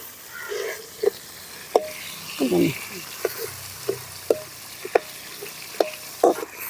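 Tomato and onion sautéing in a pan for sambar rice, a steady soft sizzle with repeated sharp clicks and scrapes of a spoon stirring at an even rhythm, close by.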